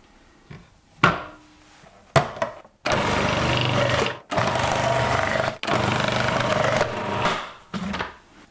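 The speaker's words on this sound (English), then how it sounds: "In the food processor, I'm going for grated, with the coarse disc fitted." A food processor fitted with a coarse grating disc shreds celeriac, starting with short bursts and then running in long, loud, whirring stretches broken by brief pauses.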